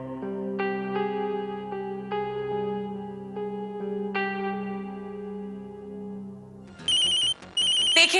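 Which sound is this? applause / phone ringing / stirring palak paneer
phone ringing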